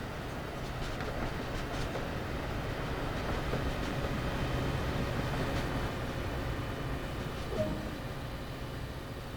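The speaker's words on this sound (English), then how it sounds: "you can hear this train" A train rolls past at night in the city with a steady, moderately loud rumble and faint rhythmic clatter from the wheels, lasting for the whole stretch with no talking.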